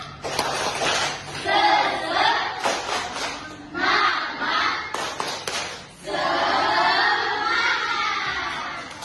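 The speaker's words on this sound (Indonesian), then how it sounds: "kita tepuk semangat dulu yuk" A school class does a rhythmic spirit clap (tepuk semangat), bursts of group clapping mixed with children chanting and shouting together, loud and close, in several rounds with short pauses between them.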